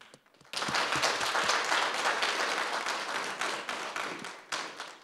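A live audience breaks into dense, sustained applause after a brief quiet start, many hands clapping together at a steady roar that thins slightly toward the end, with no talk over it.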